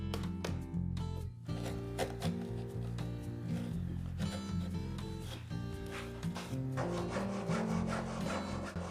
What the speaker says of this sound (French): je vais couper cet assemblage à mi-bois au mauvais endroit